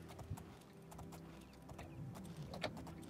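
A slow horse clip-clops along at a steady, moderate pace in the video game Oblivion, with faint hoofbeats under low ambient game sound.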